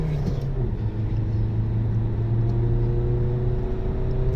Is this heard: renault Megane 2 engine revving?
yes